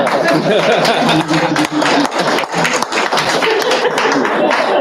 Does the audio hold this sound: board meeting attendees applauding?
yes